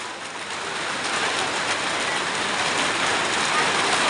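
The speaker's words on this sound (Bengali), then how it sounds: "বৃষ্টি শুরু হয়ে গেল" Rain falls steadily as a dense, even wash of patter. It is fairly loud and builds slightly, with no distinct voices above it.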